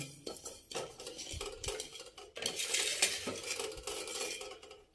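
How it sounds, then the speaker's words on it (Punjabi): Asafoetida being stirred into hot oil in a pan for a lemon and chilli pickle, with the spoon scraping and clanking against the metal close up, the strokes growing busier and more continuous toward the end. "ਇਹਨੂੰ ਵੀ ਨਾ ਆਪਾਂ ਇਹਦੇ ਵਿੱਚ ਹੀ ਹਿਲਾ ਦਾਂਗੇ ਹਿੰਗ ਨੂੰ"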